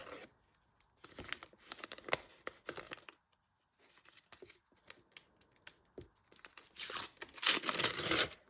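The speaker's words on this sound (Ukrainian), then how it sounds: "Давайте перше відкриємо сам пакетик." Crinkly paper rustling and tearing in bursts as a paper surprise packet is opened close by, with brief pauses between handling sounds.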